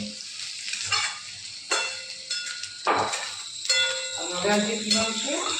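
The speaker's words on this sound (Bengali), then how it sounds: "এই জন্য একটু পেঁয়াজ নাড়ছে" Onions stirred while frying in a pan with ginger and garlic, a steady sizzle broken by repeated sharp scrapes and clatters of a utensil against the pan, close by, with voices talking intermittently.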